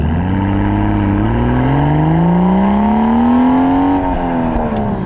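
Manual BMW M140i engine revs loud and continuous while driving, its pitch climbing steadily after a downshift from third to second, then dipping briefly, with no talking.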